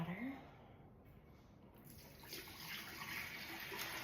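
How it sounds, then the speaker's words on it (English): Water poured from a refrigerator filter into the reservoir of a LifeWave X20 water unit, a faint, steady trickle and splash that grows slightly fuller partway through. "Let's pour in our water."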